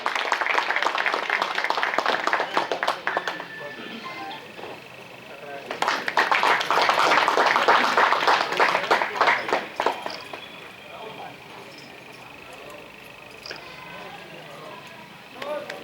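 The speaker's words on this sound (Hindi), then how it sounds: "जोरदार तालियां बजनी चाहिए" Audience applause welcoming guests at a Brahmin community matchmaking gathering in a hall in Durg, a crowd clapping loudly in waves that swell and then taper off, with someone speaking over it on a microphone.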